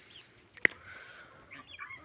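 Backyard chickens and a young rooster give soft, brief clucks and calls, fairly faint and close, with one sharp tap near the start.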